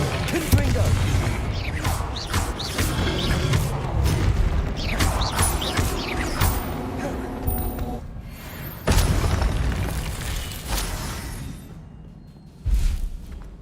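Spell combat in the Hogwarts Legacy video game, with a Confringo fire spell bursting amid dense clashing, clanking mechanical effects and booms, a sharp loud impact near the nine-second mark and another near the end.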